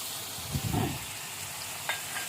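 Dry moong dal stirred in a pan to roast it before Govindabhog rice is added, giving a soft sizzling rustle with a brief cluster of scraping bursts and one short later scrape. No voices are heard.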